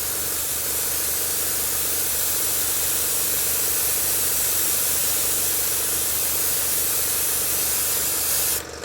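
An SG-100 0.3 mm airbrush sprays paint onto an object in a steady, continuous close-up hiss that runs unbroken for nearly nine seconds before cutting off abruptly.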